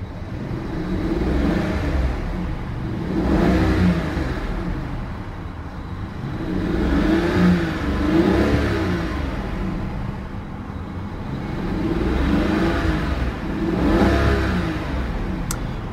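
The engine of a 2014 Rolls-Royce Ghost is revved repeatedly, with smooth exhaust swells rising and falling in three or four paired pulses over a steady idle, close and fairly loud, with no talking.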